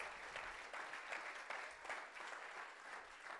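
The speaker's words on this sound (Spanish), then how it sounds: "Give an applause to Lord Jesus." A church congregation gives a brief burst of applause, faint and somewhat distant, a steady patter of many hands clapping with slight pulsing swells.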